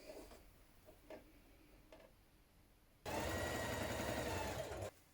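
A sewing machine top-stitches around shirt cuffs, starting after a few quiet taps with a loud, fast, steady whirr that runs for about two seconds and then stops abruptly.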